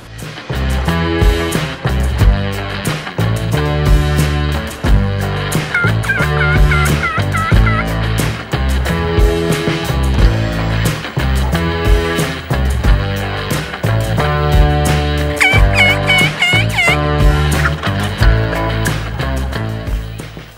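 A wild turkey gobbles repeatedly, loud and rattling, in bursts spread across a long stretch with no talking.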